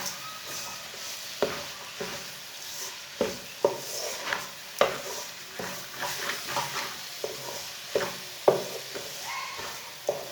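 Carrot halwa cooking in a pan as sugar, grated coconut and raisins are stirred in, with a soft sizzle beneath irregular scraping and knocking of a spoon against the pan.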